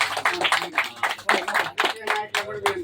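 Audience clapping to thank donors at a Vishwakarma employees' welfare association event in Khammam, loud rhythmic hand claps in a fairly even beat, close and clear.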